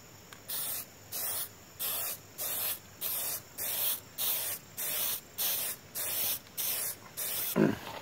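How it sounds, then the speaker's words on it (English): An aerosol spray can sprays a coating onto a DIY ballistic armor plate in a workshop. Eleven or twelve short, even hissing bursts come in a steady rhythm, each lasting about half a second, heard close and alone. "I have a feeling they didn't really expect anyone to like spray the entire can at once"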